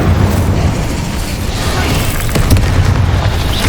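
A dense, sustained roaring blast from the Bombarda spell in Hogwarts Legacy, a loud continuous rumble of explosive impact with crackling debris throughout.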